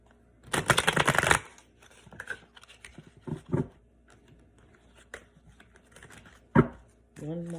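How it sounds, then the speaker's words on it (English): Tarot deck being shuffled by hand, a dense riffling burst near the start followed by softer scattered card slaps and shuffles, close by with little else around. "So let's shuffle a few more times, cut the deck"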